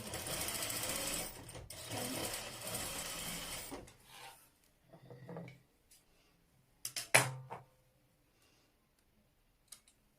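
A sewing machine stitches aligned crinoline layers for a ruffled-hem baby dress, running in a steady fast whir for about four seconds, then short stop-start bursts and faint clicks before falling quiet.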